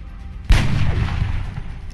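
A single heavy gunshot booms suddenly in the XCOM Long War video game, followed by a long rumbling decay that fills the rest of the short moment.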